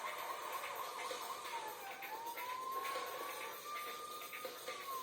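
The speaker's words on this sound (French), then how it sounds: "Par contre, coupez-moi cette sirène." Police car siren in the video game LEGO City Undercover, a single wailing tone rising and falling, fairly faint and steady under noisy game background.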